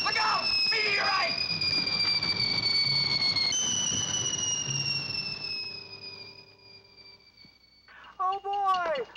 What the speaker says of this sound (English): Oh boy! Fireworks!